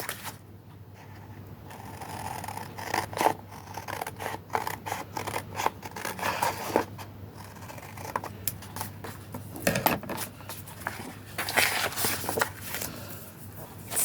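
Scissors snip through a holiday card, with a quick series of crisp cuts and paper rustles in an irregular rhythm, close and fairly quiet.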